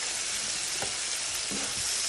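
Chili garlic sauce is stirred into Brussels sprouts frying in a pan for a honey sriracha dish. A loud, steady sizzle runs throughout, with a couple of soft stirring scrapes.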